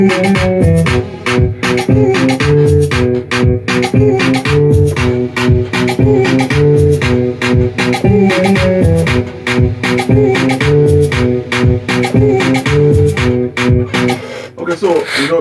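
A bright, dense Nexus Super Saw x4 trance strings patch plays sustained chords in an FL Studio afropop shakushaku beat, loud and steady over punchy rhythmic hits, with no talking, before it cuts off near the end.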